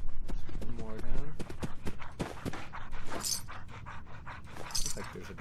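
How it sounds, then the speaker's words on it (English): A dog pants in the game Fallout 4, with quick breathy huffs beneath the player's talk, amid footsteps and scattered in-game effects. "Looks like there's a dog nearby."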